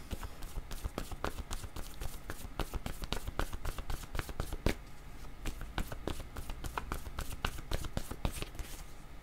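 Tarot cards being shuffled by hand in quick, rapid riffling flicks and taps, a dense close-up rattle that runs steadily throughout with no voices.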